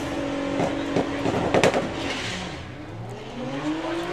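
VW drag race cars, including the Cutthroat Racing caddy and the Lagster, launching side by side at Santa Pod, with loud engine roars and sputtering bursts as one bogs off the line, then a fading, rising drone.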